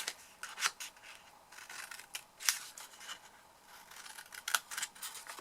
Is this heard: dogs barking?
no